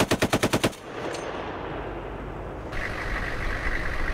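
An M2 Browning .50 caliber machine gun mounted on a Humvee fires a rapid burst of about seven heavy, booming shots during military training, followed by a lingering rumble and engine noise.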